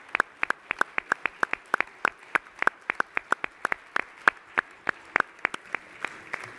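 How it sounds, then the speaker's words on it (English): A few people clap sparsely and rhythmically at a New York City Council meeting honouring Families for Safe Streets, distinct individual claps repeating steadily in an otherwise quiet chamber. "Let's give them a round of applause for the work they do to make our city a safe place."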